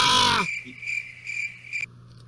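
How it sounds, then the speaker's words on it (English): Cricket chirping used as an awkward-silence sound effect, a steady high chirping trill in short repeated pulses, starting under a brief burst of crowd noise before continuing alone. "go to those crickets way too many times."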